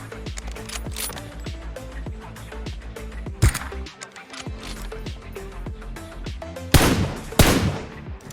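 Rapid gunfire from an M4 rifle in BGMI, the mobile battle royale game, comes as a fast rhythmic stream of sharp shots, with a short gap and a few louder, closer blasts near the end.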